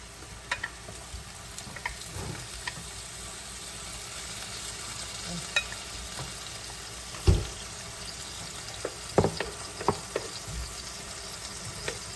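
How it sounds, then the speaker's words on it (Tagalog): Garlic and onion sautéing in a pan with shrimp added, giving a steady low sizzle across the whole stretch and a few sharp clatters of utensil or ingredients hitting the pan. "habang niluluto, ginigisa po natin yung ating bawang tsaka sibuyas"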